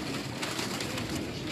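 A kamgar pigeon coos in a pigeon loft, its soft, low murmuring steady and close for a brief stretch over a constant background hiss.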